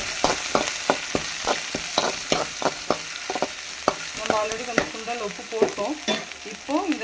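Onions and green chillies for sundal frying in a pan, with a loud crackling sizzle and a quick run of sharp spatula taps and scrapes, followed by irregular stirring clatter over continuous frying.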